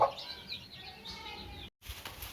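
A mother hen tending her chicks in a brooder, soft clucks and faint high peeping close by, with a brief flutter and a short break in the middle.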